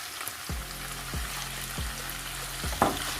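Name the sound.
chicken frying in pan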